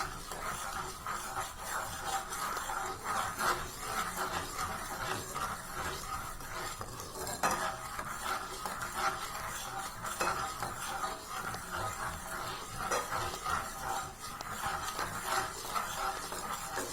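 A utensil stirs a gram flour mixture in a pan with continuous scraping and swirling, a faint sizzle underneath and a few louder knocks against the pan, steady and close with no talk.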